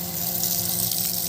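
Water is poured onto plants on a farm, a steady, close rushing stream of liquid that continues without a break.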